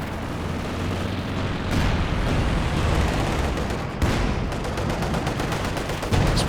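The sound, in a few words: artillery barrage in Company of Heroes 2 video game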